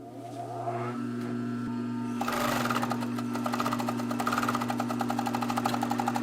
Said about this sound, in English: I'll try to give you an idea of how quiet the actual machine is. Here comes the clutch motor.